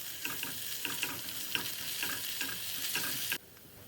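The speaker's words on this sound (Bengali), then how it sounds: "আবার কিছুক্ষণ ভেজে নিব ও দিয়ে দিব কুচি করে কাটা অর্ধেকটা টমেটো।" Chopped tomato frying in a pan with garlic and ginger paste for an egg and lentil curry, a steady close sizzle broken by several short stirring scrapes, cutting off sharply near the end.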